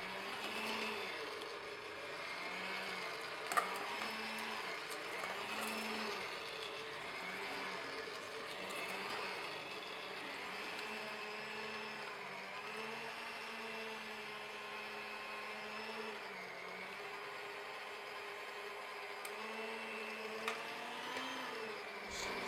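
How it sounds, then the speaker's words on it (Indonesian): An electric mixer runs steadily at low speed, blending donut dough with a continuous whirring motor hum and faint cyclic variations as the dough turns, with no voices. "Mixer kembali dengan speed rendah sampai tercampur rata."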